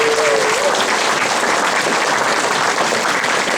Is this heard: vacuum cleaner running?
no